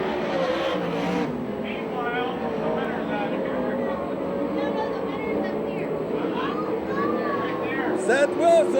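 USAC/CRA sprint cars race around an oval track in Phoenix, Arizona, their engines whining in a continuous, layered drone with rising and falling pitches as cars pass, while a voice talks over the noise.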